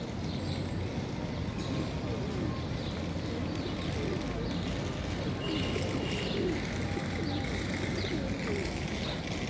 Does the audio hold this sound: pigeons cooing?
yes